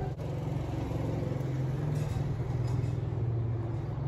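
A motorcycle engine runs at a steady, throbbing pace close by in a mechanic's workshop, holding a constant low rumble for a few seconds without fading.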